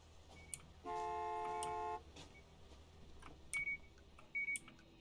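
A car horn in Gas Station Simulator gives one sustained honk lasting about a second, followed by two short, fainter beeps a few seconds later over quiet background hum.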